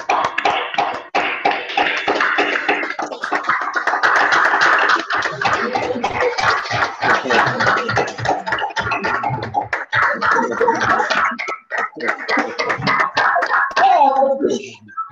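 Participants in an online certification ceremony clap over their open microphones, a scattered, uneven patter of many separate hands with clipped, tinny tapping, mixed with voices and laughter throughout.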